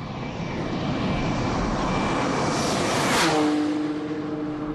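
A Ferrari Enzo running flat out at top speed on the Nardo test track, a loud, steady high-speed roar with broad wind and engine noise and a faint pitch change near the end.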